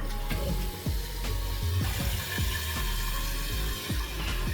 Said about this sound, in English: So let's do one full flush.